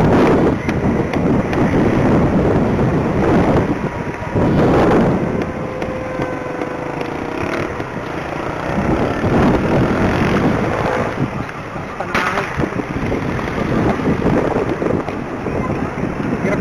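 Strong wind buffets the microphone in continuous roaring gusts, with faint water and boat noise underneath and occasional distant voices.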